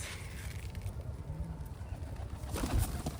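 Sona Masjid pigeons kept in a loft coo softly and steadily against a noisy background, with low throaty calls close by and a brief flutter near the end.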